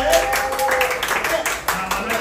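People clap to celebrate at a serial shoot in a showroom, a brisk burst of scattered hand claps mixed with voices talking over it.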